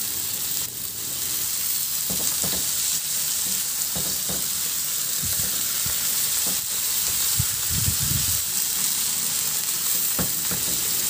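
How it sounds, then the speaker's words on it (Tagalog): Tomatoes and onion sauté in a pan with a steady close sizzle, while a utensil scrapes and stirs in scattered knocks and bursts throughout. "Maglagay din ako ng kamatis. Ihalo lang din hanggang sa maluto yung kamatis."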